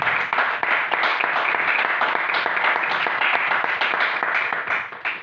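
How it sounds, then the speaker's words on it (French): A church congregation applauds and cheers loudly during a worship service, a dense, continuous wash of clapping that holds steady for several seconds with no talk over it. "Est-ce qu'on peut acclamer pour Jésus-Christ?"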